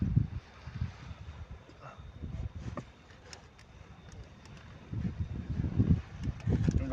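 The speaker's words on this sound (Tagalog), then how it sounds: "Ang lakas ng hangin." Gusty outdoor wind buffeting the microphone in low rumbling bursts, strongest at the start and again toward the end, with no voices.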